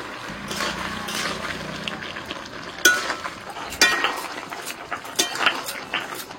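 Sesame and poppy seed paste being stirred into frying bottle gourd stems with boiled potatoes: a spoon scrapes and clinks against the pan in sharp, irregular knocks over a soft, steady sizzle.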